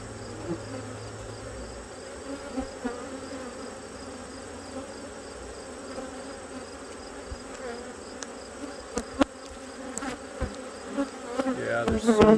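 Honey bees at an open, brood-packed hive in fall drone continuously, close and full, with occasional handling knocks and clicks growing busier toward the end.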